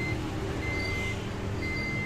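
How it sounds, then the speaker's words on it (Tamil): An old desktop computer that will not start gives a repeating pattern of steady electronic beeps, two tones and then a gap, heard over a loud, constant fan-like hum. "இப்போ வர இந்த பீப் சவுண்டை நீங்கள் கவனிச்சிங்கன்னா 2 முறை பீப் சவுண்ட் கொடுத்து ஒரு கேப் கொடுக்குது."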